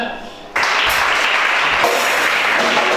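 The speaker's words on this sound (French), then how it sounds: "Acclamation." Applause from a church congregation breaks out suddenly after a brief quieter moment, a dense, loud wash of clapping that carries on steadily to the end.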